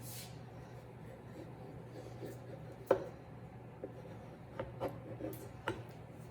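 A knife cuts beerock dough into halves on a board, producing a few faint, sharp taps and thuds spaced irregularly over a quiet background hum.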